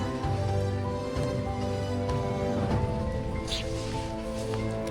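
Steady rain falls and patters on surfaces, a continuous soft hiss with scattered drops, no talking.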